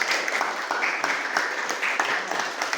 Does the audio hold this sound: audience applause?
yes